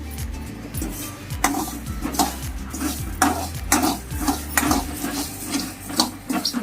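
Spices for mango pickle roasting in a pan on a small stove, stirred with repeated scraping strokes in a steady rhythm and faint sizzling beneath, close and clear.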